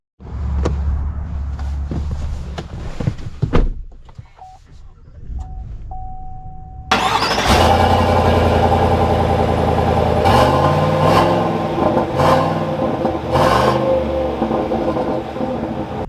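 A 2021 Chevy Silverado 1500 LT pickup truck is heard. Quiet cabin noise and a few faint clicks give way to a loud start, then a steady, close engine idle with a low rumble that holds to the end.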